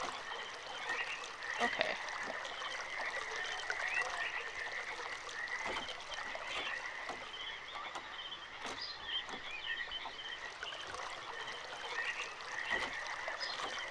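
Water flows through a pipe in the game realMyst, producing a steady croaking, gurgling warble with a trickling texture that repeats continuously, while a voice speaks briefly over it.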